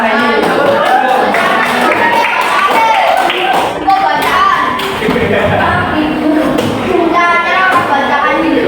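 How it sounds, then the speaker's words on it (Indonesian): Students in a classroom give a burst of applause, a loud, dense patter of hand claps close by that goes on throughout, with some voices mixed in underneath. "kasih tepuk tangan buat Junaita sama Rahayu."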